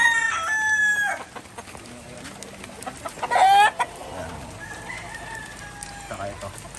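White Kelso cross gamefowl roosters crow outdoors, one long crow near the start and another louder one midway, with clucking and faint farmyard sounds between them.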